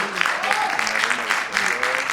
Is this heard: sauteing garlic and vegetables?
no